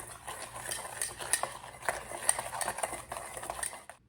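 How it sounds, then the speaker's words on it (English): A herb mixture is whisked in a bowl with rapid, close, scraping clinks of utensil against the dish, running steadily for a few seconds before stopping. "Whisk this."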